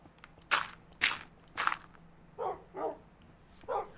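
Dog barks from the Minecraft video game, three sharp yaps followed by three softer, lower woofs, spaced about half a second apart over a quiet background.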